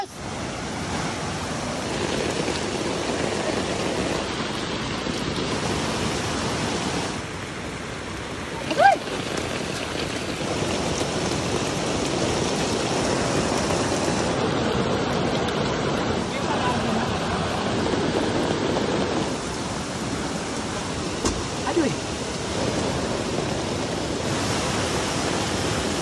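Heavy rain pours steadily during a flood, a dense continuous wash of noise close by that holds for the whole stretch, with faint voices under it.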